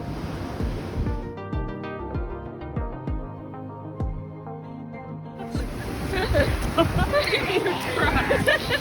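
Surf on a Hawaii shore washes in, building to a broad rushing hiss of breaking waves in the second half, after a stretch dominated by music and voices, with people talking nearby.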